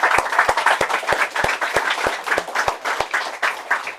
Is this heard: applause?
yes